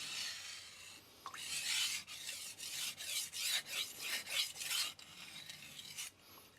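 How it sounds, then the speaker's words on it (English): Knife edge rasping in repeated deburring strokes across a resin bonded diamond whetstone, a 165mm Tosa Boeki funayuki blade; about eight quick close scraping passes in a steady rhythm, with no talking. "I can now deburr it, do deburring strokes here"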